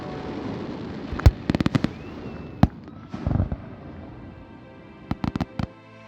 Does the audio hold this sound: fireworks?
yes